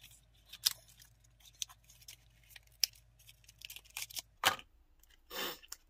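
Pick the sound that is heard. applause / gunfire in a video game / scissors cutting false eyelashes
scissors cutting false eyelashes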